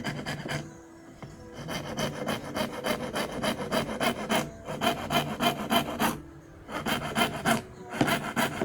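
A hand saw rasps back and forth through wood along a marked line in steady strokes, with a few short pauses before the cutting resumes.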